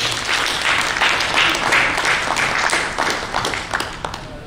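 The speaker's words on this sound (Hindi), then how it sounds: "माननीय पीयूष जी के लिए जोर से ताली बजाकर स्वागत" A crowd at a dinner with political dignitaries claps loudly to welcome a guest, a thick sustained round of applause with individual sharp claps standing out, fading slightly toward the end.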